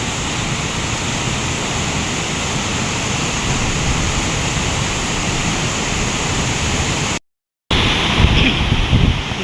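A waterfall at Sulfur Mountain in Valencia, Negros Oriental, roars in a loud, steady rush of water, briefly cutting out before resuming with some rumbling buffets of wind.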